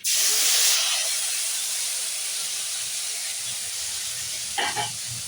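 Tomato dropped into a hot pan of spicy small-fish and potato curry with green chili and ginger bursts into a loud hiss that settles into a steady sizzle, close by.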